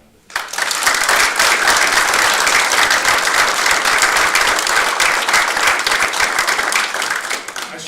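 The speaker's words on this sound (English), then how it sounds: "So give them a round of" An audience at a university academic showcase bursts into loud, sustained applause, dense clapping that fills the room for several seconds without fading.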